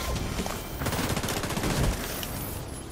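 Dense, sustained automatic gunfire from a firefight in The Division 2's Dark Zone, with overlapping rapid shots and bursts filling the whole stretch at steady loudness.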